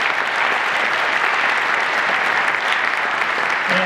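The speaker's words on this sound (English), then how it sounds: "So please give all of those people a huge round of applause" Sustained, dense applause fills a school concert hall after a band performance, a steady wash of many hands clapping at full volume from start to finish with no talk over it.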